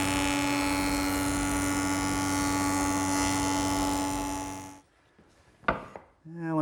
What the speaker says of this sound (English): Couple passes through the joiner should straighten it out.